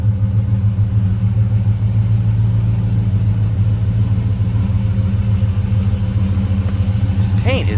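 Steady low idle rumble from the 5.7L engine of a 1948 Chevrolet Convertible, continuous and close throughout, with a faint higher noise near the end.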